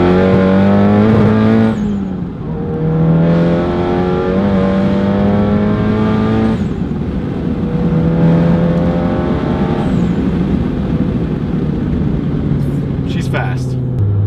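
A tuned VW MK7 GTI pulls hard through second gear, its engine note climbing loud and close in long rising sweeps, with gear-change breaks and wheelspin, under talk from inside the cabin.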